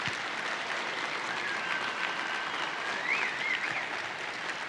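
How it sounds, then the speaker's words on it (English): Conference crowd applauding its planning committee at an opening session, a dense, continuous wash of clapping from a large room, loud and even throughout, with a faint whistle-like tone drifting over it. "if you give a round of applause to our planning committee"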